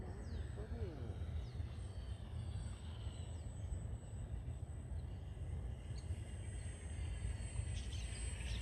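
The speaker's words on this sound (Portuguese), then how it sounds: "Ah lá, voando, salvando bem, a hélice é boa, o motor é bom." A radio-controlled model airplane on its first flight, propeller and motor droning steadily at a distance with a faint high whine, under constant outdoor background noise and some talking.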